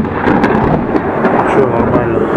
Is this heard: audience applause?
no